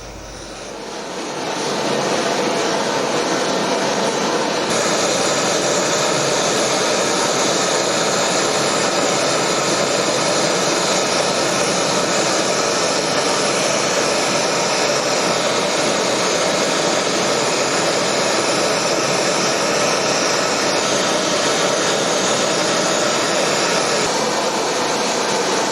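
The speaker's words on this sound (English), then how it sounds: "The torch being used here is a simple propane torch." A propane torch flame roars steadily and loudly, heating metal to cast a simple ring, with a continuous broadband hiss that rises in the first seconds and then holds alone throughout.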